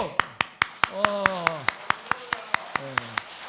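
A church congregation at a Sunday service at Jecheon Baegun Methodist Church claps in a quick, regular rhythm of sharp, close claps, with voices calling out over the beat.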